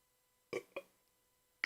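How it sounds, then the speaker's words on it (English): Two short, close burps follow each other quickly in an otherwise quiet room, with a faint click at the end. "Burp."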